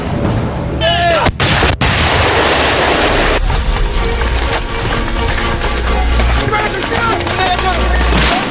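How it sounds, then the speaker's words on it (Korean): Artillery and gunfire crash through a Korean army combat training exercise in a forest, with loud, dense blasts and rapid shots continuing throughout. Faint voices are mixed in under the firing. "포격과 동시에 일제히 공격이 시작된다."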